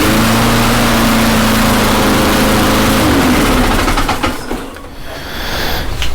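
A lawn mower engine with a cracked deck, started without choke, runs at a loud, steady drone that sputters and dies partway through, then a faint rattling follows.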